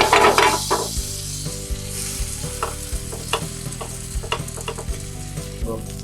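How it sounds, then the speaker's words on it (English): A butter-toasted burrito wrap sizzles steadily in a frying pan, a continuous close fry with occasional stirring clicks and scrapes over the bubbling. "Now we'll toast our wrap from one side. For which we'll add butter into our pan."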